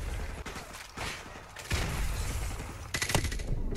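Gunfire in Call of Duty: Modern Warfare Remastered, bursts of rapid automatic shots and scattered reports that grow denser toward the end, fairly loud and mixed with game mechanism clatter, no one talking.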